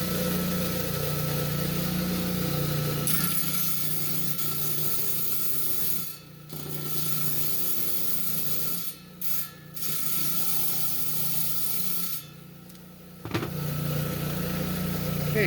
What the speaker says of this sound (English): So let's start slicing some rocks here.